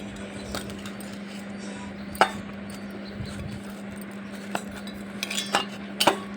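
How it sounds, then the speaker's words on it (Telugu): Wheat flour dough for badusha being mixed in a bowl gives off scattered light clinks and soft scraping over a steady low hum, with a few sharper knocks near the end and no talking. "నేను చూపించిన విధంగా బాగా కలుపుకోవాలి ఫ్రెండ్స్"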